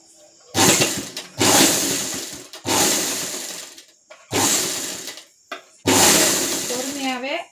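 An electric sewing machine runs in five short bursts while stitching along a blouse edge, each run a loud close whir separated by brief pauses, with a short voice near the end.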